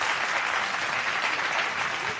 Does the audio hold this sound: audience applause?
yes